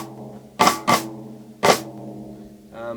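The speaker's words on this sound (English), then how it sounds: "it employs a technique that I have dubbed the clap cross stick" Clap cross stick technique on a drumset snare: three sharp, bright cracks ringing over sustained tones, a quick pair followed by a single hit, then a softer fourth stroke near the end, close and alone.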